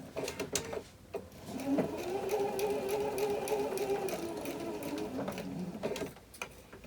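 Sewing machine running a continuous seam along the top of a fabric bag, a fast, steady mechanical whir heard close, with a few clicks before and after.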